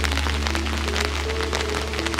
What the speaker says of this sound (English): The rain is just starting back again.